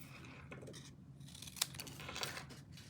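Scissors trim paper for a Stampin' Up! card-making project, a few soft close snips and faint crinkles at low level, no one talking.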